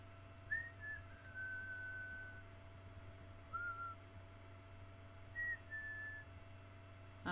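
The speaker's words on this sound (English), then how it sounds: "I don't know what I'm whistling." A person softly whistles a few sparse, clear notes of a tune during an acrylic painting session, quiet and close against a low room hum, with gaps between the short phrases and no talking.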